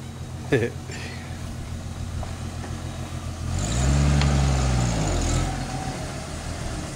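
A Jeep engine drives past while hauling a load of dirt on a work site, rising to a louder, close-by hum with a pitched drone in the middle before easing back down, under light background noise.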